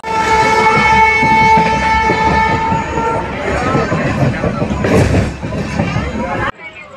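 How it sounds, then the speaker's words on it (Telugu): Venkatadri Express pulling out of Tirupati station, its horn blaring in long sustained tones over the heavy rumble and clatter of the moving train, loud and close, ending abruptly. "13 నిమిషాలు ఆలస్యంగా అయితే డిపార్ట్ అవుతుంది ఈ తిరుపతి నుండి అయితే"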